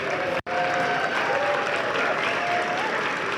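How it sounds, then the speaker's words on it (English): An audience at a psychedelic-assisted therapy talks gathering gives a round of applause, dense steady clapping that fills the room, broken by a very brief dropout near the start. "please stand up and just let us give you a round of applause"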